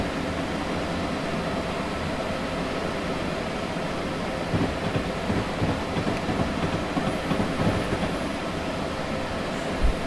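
Amtrak ACS-64 electric locomotive in Train Simulator 2021 running along the Northeast Regional route to New Haven, a steady loud rolling rumble with rhythmic clickety-clack of wheels over rail joints, growing slightly busier toward the end, no talking.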